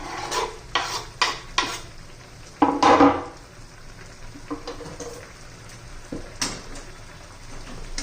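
Moong dal and onion are stirred in a pan, with a series of scraping, clattering strokes of a spoon against metal over a faint background sizzle, close and fairly loud, with no voices.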